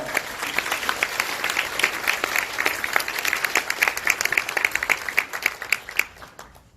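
Audience applause at a 2020 Korean Christian business leaders' New Year gathering, welcoming a speaker to the stage: a dense wash of many hands clapping, steady and fairly loud, thinning out toward the end.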